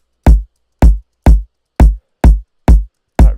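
Electronic club kick drum synthesized in Ableton, struck seven times at a steady, evenly spaced pulse, each hit a loud, punchy low thump with a short bright click and quick decay, alone with silence between hits.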